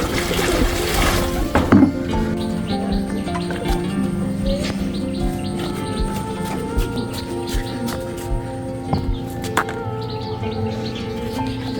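Water rushes out of a bucket in a short, loud gush to bathe pigeons. Bird chirps and cooing sounds continue close by afterward.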